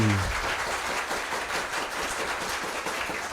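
Applause from an audience at a quiz-style maths competition, a steady even patter of clapping heard alone at moderate distance through the short stretch.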